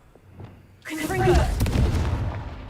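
A Confringo fire spell from Hogwarts Legacy bursts into a loud, sustained booming explosion with a rumbling tail, after a quiet lead-in.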